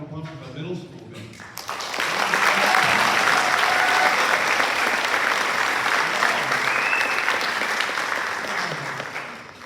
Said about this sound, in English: How about a round of applause for the middle school band?